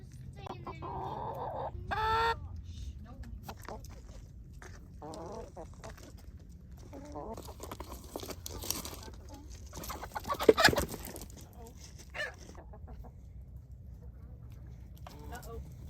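Hens cluck and squawk in agitated bursts, with a sudden loud flurry of scuffling midway; people talk quietly in the background.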